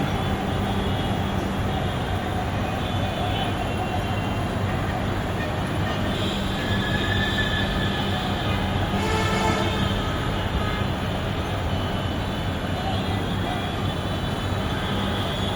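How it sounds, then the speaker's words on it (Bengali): A Dhaka metro rail train passes and curves through a bend, heard from a rooftop as a steady rolling rumble with a brief brighter rise midway, continuous throughout. "যাচ্ছে তো যাচ্ছে ট্রেন"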